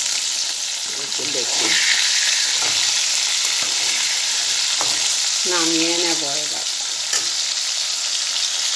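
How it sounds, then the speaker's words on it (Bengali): Fish frying in oil in a kadai, a loud continuous sizzle and crackle running throughout, with a woman's brief speech over it and a few stirring knocks. "মাছ ভাজা কিন্তু হয়ে গেছে,"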